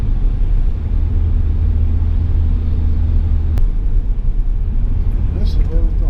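A vehicle drives along a road into town after a winter storm, its engine and tyre rumble steady and loud from inside the cab, with a brief click partway through.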